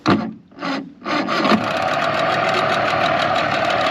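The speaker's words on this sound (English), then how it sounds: "battery's a little loud, but motor does fire right up" A Tohatsu 9.8 two-stroke outboard motor sputters through a few pulls, then catches and runs with a steady, buzzy rattling drone close by.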